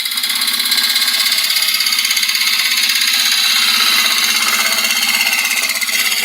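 A gouge cuts wood on a spinning woodturning lathe, making a loud, continuous, steady shearing hiss over the motor's drone, without pauses.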